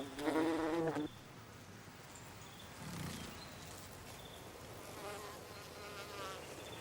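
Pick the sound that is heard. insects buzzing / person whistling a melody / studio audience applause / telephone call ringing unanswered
insects buzzing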